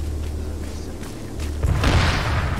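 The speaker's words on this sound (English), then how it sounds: "That sounds like a BMP." A BMP armoured vehicle firing in Arma 3, heard as deep rumbling booms building into a heavy, sustained low roar at mid distance, with no talk over it.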